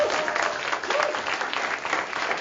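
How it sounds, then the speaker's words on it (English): A college audience applauds a new employee on his first day on the job, a dense, even round of clapping from many people that holds steady from start to finish. "so can you give him a round of applause there?"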